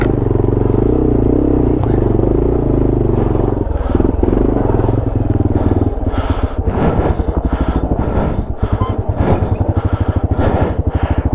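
A Yamaha TW200 dual sport motorcycle drones steadily along a rough Colorado Springs trail. Loud rattling and clattering bumps come thick and fast as it rides over rocky ground, up close.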